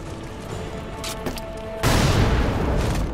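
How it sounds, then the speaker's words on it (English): A big explosion in the video game Lara Croft and the Guardian of Light: a sudden loud boom that rolls on as a dense, sustained rumble after some lighter crackling game sounds. "Ooh, that was quite a big explosion, actually."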